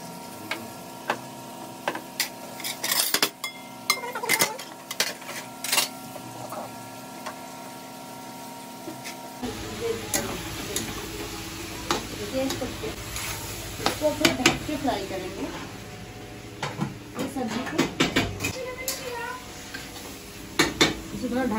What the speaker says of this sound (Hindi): तब नहीं बर्तन साफ कर लेते हैं